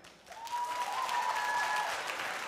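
Comedy club audience breaks into applause after a brief quiet start, a full, steady patter of many hands clapping that holds evenly, with a faint whoop or whistle above it.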